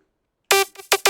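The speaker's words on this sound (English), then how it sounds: "Just like a plucky saw synth" Three short, buzzy plucky saw synth hits with a bright, raw sawtooth edge, in quick succession after a brief silence.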